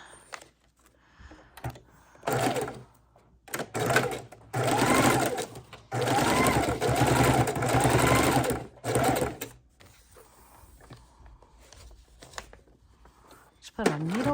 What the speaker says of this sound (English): So I'm going to stitch this down just like so.